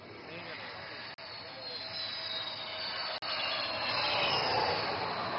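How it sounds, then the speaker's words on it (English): A jet aircraft landing on a highway during an air show, a loud continuous roaring whine from the engines that holds steady and swells slightly, with two brief dropouts. "And touchdown. Shoots out, aircraft landed, mission accomplished."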